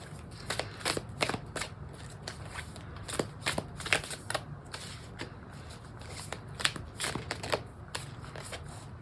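An African Goddess Oracle card deck is shuffled by hand, giving quick irregular riffling snaps and soft flutters that repeat up close with no voices.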